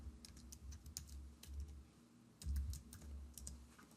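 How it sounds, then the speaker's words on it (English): Quiet typing on a computer keyboard, a run of soft, irregular key clicks with a brief pause midway, close up and with no other sound. "you need to type a text before or after them to clarify what they are for"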